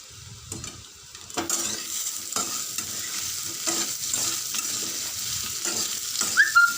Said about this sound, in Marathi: आता याच्यामध्ये वड्या टाकल्यानंतर आपल्याला व्यवस्थित याला हलवून घ्यायचं आहे, जेणेकरून या सगळीकडून अशा फ्राय होतील